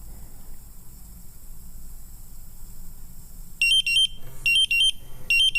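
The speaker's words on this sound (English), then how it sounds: "all of the alarms make the same noise, have the same visual indication" A Draeger gas monitor sounds its combustible gas sensor alarm, starting after a quiet stretch with loud, piercing electronic beeps in rapid repeated bursts separated by short pauses.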